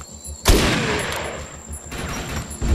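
Gunfire in the Defiance video game: a sharp loud burst near the half-second mark with a long decaying tail, then softer scattered shots and a stronger report near the end over a steady electronic hum.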